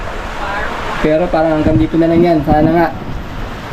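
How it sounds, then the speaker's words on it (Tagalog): Steady, heavy rain with strong wind hisses and roars throughout while a person talks over it. "Tuloy-tuloy pa rin yung ulan hanggang ngayon."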